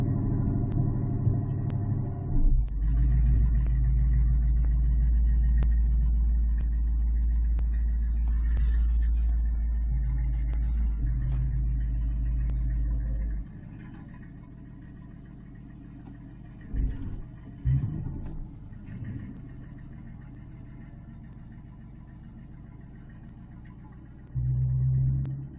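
A Ford Fairmont budget build, just refitted with GT40P cylinder heads, idles steadily with a deep, even rumble for about thirteen seconds, then settles to a quieter idle with a few small bumps and knocks before the louder rumble returns near the end.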